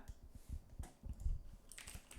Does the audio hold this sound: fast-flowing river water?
no